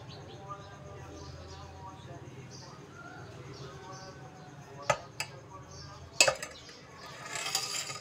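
Two spoons clink against a dish while melted homemade ginger lemon candy is mixed: a few sharp, bright clinks near the end over a steady low kitchen background.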